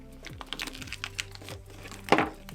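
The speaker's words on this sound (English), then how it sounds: "We need to open up packaging" Crinkly plastic packaging being torn and opened around a Traxxas TRX4 overdrive gear set, a run of close, irregular crackles and snaps ending in one sharper rip, with no talk.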